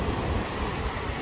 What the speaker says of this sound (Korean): 파도 봐요, 파도.